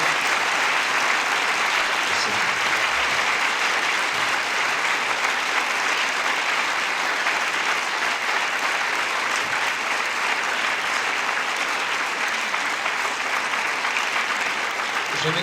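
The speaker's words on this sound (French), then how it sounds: "je crois qu'on peut applaudir Charlie." Sustained audience applause at a film premiere in a theatre, dense and steady clapping filling the room for about fifteen seconds without pause.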